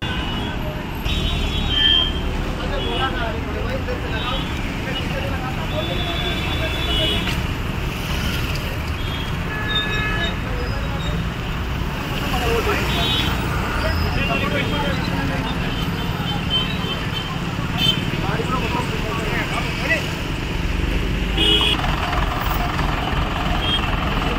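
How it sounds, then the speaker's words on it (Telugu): Vehicles stalled for an hour on the Bijapur highway after a road accident make a steady, dense roadway rumble of idling and crawling engines, with faint horn-like tones drifting over the continuous noise throughout. "రోడ్డుపై యాక్సిడెంట్ కావడంతో బీజాపూర్ రహదారిపై గంటసేపు నిలిచిపోయిన వాహనాలు"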